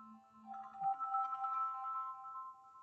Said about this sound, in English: I'm sorry, I got a phone call from my friend